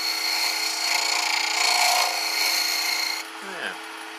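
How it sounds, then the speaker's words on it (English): Smoothing scraper drawn across a wooden carving to remove small hesitation marks, a close, steady, raspy scraping that runs for about three seconds, then drops to a quieter scrape with a brief squeak. "Try the smoothing scraper there, just to take those little hesitation marks away."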